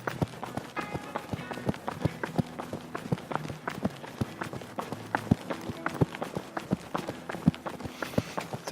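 Quick, rhythmic footfalls of someone running on a dirt trail up Mount Douglas, close and steady, with a faint music-like tone in the background.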